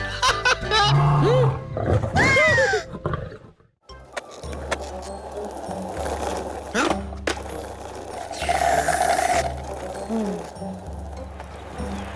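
Cartoon lion roar sound effect in a children's animated adventure, a loud swooping growl early on, then busy cartoon music and effects continuing underneath.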